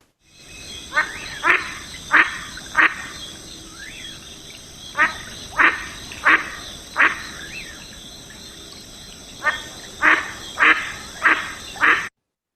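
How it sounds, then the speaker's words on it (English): A series of short, raspy mottled duck calls in clustered bursts of three or four, fairly close, repeating over a steady background hum with no talking. "we're going to listen to the sound of the mottled duck"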